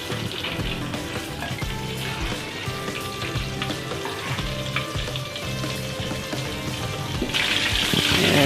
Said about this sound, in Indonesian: Ayam kita balik, kita goreng sampai warna coklat.